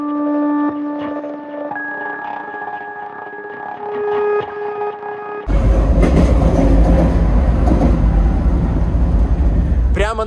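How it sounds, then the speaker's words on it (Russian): A metro train rumbles overhead on a structure above the water, arriving as a sudden loud, broadband roar with rattling that fills the second half, after a quieter opening with tonal hum and occasional clicks. "прямо над нами метро, сейчас тут там окажемся."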